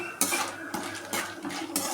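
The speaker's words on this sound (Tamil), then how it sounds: "கடலப்பருப்பு நல்லா செவந்துட்டு இது கூட கொஞ்சம் வறுத்த வேர்க்கடலை தான் இது, அதையும் லேசாக ஒரு வறுத்துக்கலாம்." Peanuts and chana dal roasting dry in a metal pan, a spoon scraping and clinking against it in steady strokes every half second or so, close and fairly loud with no talking.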